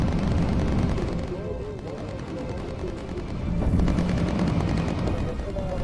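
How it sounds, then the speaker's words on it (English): Rapid machine gun fire from bomber turrets using incendiary rounds in the Bomber Crew video game, a dense continuous rattle layered over a low engine drone at steady, loud volume. "Petra, focus fire with incendiary."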